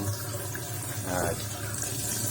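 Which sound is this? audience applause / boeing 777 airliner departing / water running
water running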